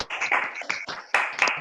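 Theatre participants receive applause at a theatre and gender event: scattered hand clapping, fairly quiet and uneven, with voices mingled in the background.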